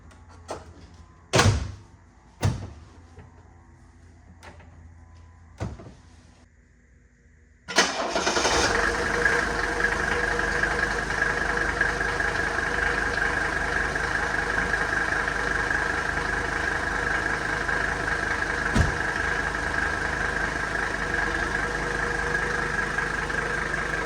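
A 1984 Mercedes-Benz 300SD turbo diesel: a few car door thuds and clunks, then the engine cranks and starts and settles into a steady, close diesel idle.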